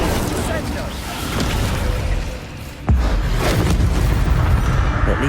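Incendio fire spell cast in Hogwarts Legacy: a loud, dense roaring rush fills the clip, broken by a sharp booming burst a little past the midpoint that gives way to a sustained, heavier rumble, with game noise and voices mixed underneath.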